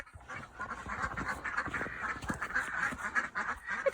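Ducks quack and honk close by, a dense, continuous chorus of nasal calls with no talk over it.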